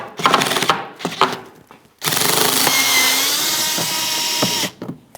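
A power drill-driver backs out a 10mm hex-head screw from the rear inner fender liner of a 2015-2024 Jeep Renegade: two short whirring bursts, then one long steady run up close, with no talking.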